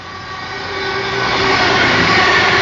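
A CrossCountry Class 221 Voyager diesel unit, 221134, runs through Tame Bridge Parkway station on the Bournemouth to Manchester Piccadilly service, a steady, loud engine roar and rail rumble building as it passes close by.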